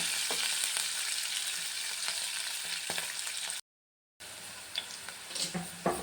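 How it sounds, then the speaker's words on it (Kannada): Green chilies fry in oil with a steady, close sizzle and crackle, broken by a brief silent gap, then a few louder pops and stirring scrapes near the end. "ಚೆನ್ನಾಗಿ ಮೆಣಸಿನ್ಕಾಯಿ ಎಣ್ಣೆಲಿ ಚೆನ್ನಾಗಿ ಫ್ರೈ ಆಗಲಿ."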